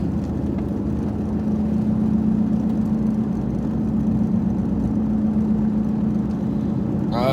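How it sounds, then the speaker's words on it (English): A car driving through Knoxville gives a steady, close engine hum with a low droning tone and constant road rumble throughout, no break in the noise. "We're just driving from West Knoxville here over down to Southwest Knoxville."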